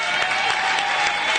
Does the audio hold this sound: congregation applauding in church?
yes